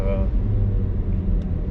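An Audi Q3 SUV engine rumbles low and steady from inside the moving car, a continuous drone of road and motor noise under someone talking.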